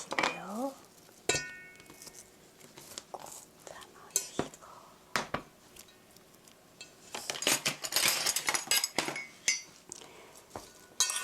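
Chopped apples being tossed with flour in a bowl for an apple cinnamon cake, giving soft scraping and irregular clinks of a utensil against the bowl, close and fairly quiet.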